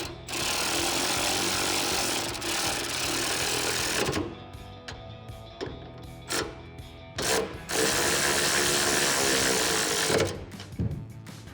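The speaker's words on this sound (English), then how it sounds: "Grab your 10mm socket and tighten them down." Power tool driving a 10mm socket to tighten M6 bolts on a Rough Country low-profile hard tri-fold tonneau cover for a Jeep Gladiator JT, whirring in several loud bursts with short pauses between them.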